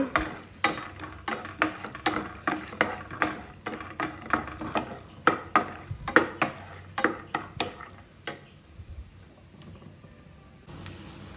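Peanuts fry in oil in a pan while being stirred, giving a series of rhythmic, close scraping and rattling strokes over a faint sizzle, easing off toward the end.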